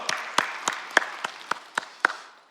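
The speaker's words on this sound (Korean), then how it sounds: "우리 하나님께 영광과 감사의 박수 올려드립니다" Church congregation at a Korean worship service giving a short round of applause, sparse individual claps heard distinctly, about eight sharp hits in a loose, steady rhythm, moderately near and alone.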